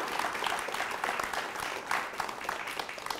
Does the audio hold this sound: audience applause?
yes